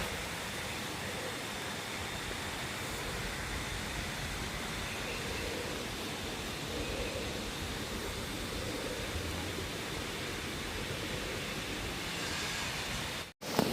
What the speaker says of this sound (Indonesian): dengerin ya suara sungainya nih